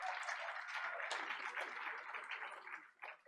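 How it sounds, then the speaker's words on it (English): An audience at a school board of education meeting claps in a sustained round of applause, fairly even and then thinning slightly toward the end. "giving a big round of applause"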